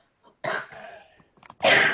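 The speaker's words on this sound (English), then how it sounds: "Sorry about the cough." Someone coughs a couple of times close up, rough, throaty bursts separated by a short breathy pause, the second cough louder and longer.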